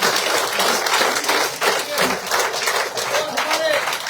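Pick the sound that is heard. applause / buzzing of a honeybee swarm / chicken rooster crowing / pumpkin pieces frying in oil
applause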